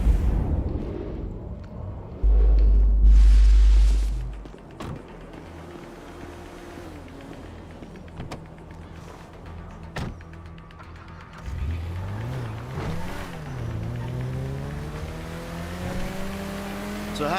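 Car driven in the video game GTA V, a loud engine burst and roar early on, then a quieter running engine that revs and climbs in pitch toward the end.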